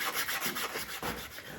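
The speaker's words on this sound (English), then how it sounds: "I'm gonna sand at a 45-degree angle with the corner of my sanding block" Quick, close scratchy rubbing strokes of a sanding block's corner against a tumbler cup's rim at an angle, repeating in a brisk back-and-forth rhythm.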